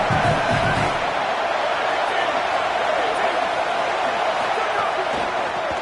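A home stadium crowd at a Florida football game makes a loud, constant roar that fills the stands, steady throughout, with a commentator talking over it.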